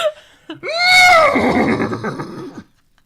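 A man imitates a horse neighing with his voice, giving one loud, drawn-out whinny that rises and then wavers down before cutting off.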